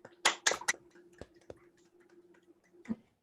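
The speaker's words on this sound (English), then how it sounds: "Guys, can we all give them a warm round of applause?" Members of an online networking group give a sparse round of applause: a few sharp, separate claps near the start, then scattered fainter claps spaced out over a low steady hum, dying away to near silence.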